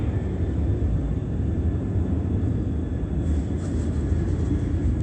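An aircraft drones overhead at night above apartments, a steady broadband rumble holding at even loudness throughout, with no voices.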